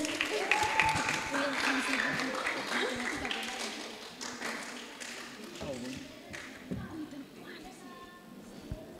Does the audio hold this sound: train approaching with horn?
no